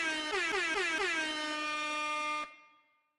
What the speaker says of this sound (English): Can you hear the air horn?